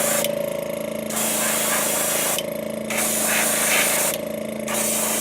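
An airbrush sprays pearlized Createx copper paint onto a lipless crankbait lure in three loud hissing bursts, each a second or two long, separated by short pauses over a steady background hum.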